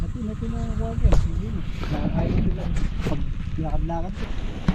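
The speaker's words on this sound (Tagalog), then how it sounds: "medyo malakas yung hangin ay lumakas yung hangin ngayong hapon" Strong afternoon wind buffeting the microphone in a steady low rumble on a farm, with a voice talking intermittently over it outdoors.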